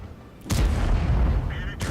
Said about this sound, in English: Wolftron puts a shot into the JP2, blocks another 490 damage from the German tank destroyer.